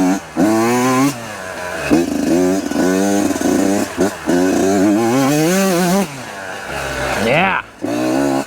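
A Yamaha YZ125 two-stroke dirt bike engine, tuned to run clean without bogging, revs up and down in repeated loud, raspy bursts close by. Brief drops between the blips let it settle back toward idle.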